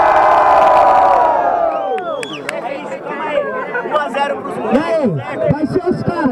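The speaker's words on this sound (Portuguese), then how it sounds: "Quem gostou das rimas do Neo e do Pelé faz muito barulho" A dense crowd at a Brazilian rap battle roars and cheers, then breaks into scattered shouts, whistles and excited chatter that rise and fall around a few louder voices.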